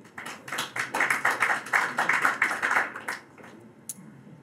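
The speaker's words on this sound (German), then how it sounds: "Applaus" Lecture audience clapping in a German hall, a steady run of hand claps for about three seconds that stops abruptly, followed by near-quiet room noise and a single faint tap.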